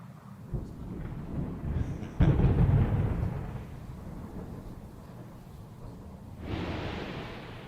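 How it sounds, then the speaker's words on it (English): A deep thunderclap booms during a lightning storm, rolling and rumbling for a couple of seconds after a sharp crack, with quieter rumbles before and a hiss of rain rising near the end. "apparently there's some echoes and lightning claps and things of that nature"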